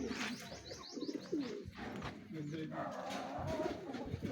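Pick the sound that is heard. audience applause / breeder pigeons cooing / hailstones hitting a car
breeder pigeons cooing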